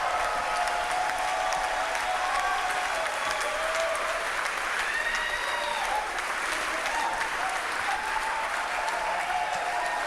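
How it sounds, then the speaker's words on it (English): A comedy club crowd in Bellevue applauds and cheers steadily for a comedian taking the stage, with dense sustained clapping, scattered whoops and whistles, loud and continuous throughout. "please make some noise for my friend, Owen Benjamin."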